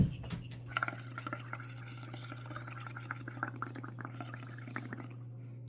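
Soapy dye water is bubbled for making bubble-dyed paper, a close, steady gurgle of small bubbles popping and burbling over a constant low hum, with soft irregular liquid blips throughout.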